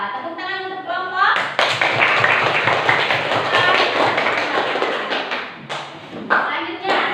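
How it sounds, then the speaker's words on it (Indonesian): Classroom group of students clapping for their classmates in a primary school lesson, a dense burst of hand claps lasting several seconds, fairly close and loud, with a teacher's voice before it and light chatter mixed in. "tepuk tangan untuk kelompok"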